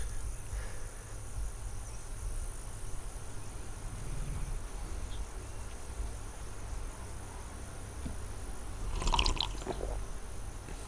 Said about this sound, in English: just drank a bit more water.